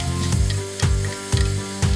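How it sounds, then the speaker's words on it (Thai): Pork belly with palm sugar stir-fries in a hot pan, a loud steady sizzle broken by regular scraping stirs about twice a second. "เมื่อเราจัดการผัดหมู3ชั้นจนสุกได้ที่แล้วนะครับ"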